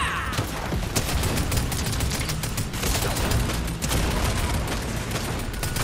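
Dense Fortnite gunfire during a Zero Builds squads match: continuous rapid volleys of loud shots crackling together, filling the whole stretch with no pauses, with no talk over it.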